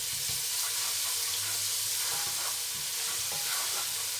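Ginger garlic paste fries in a pan with a loud, dense, continuous sizzle and crackle, with occasional stirring scrapes close by.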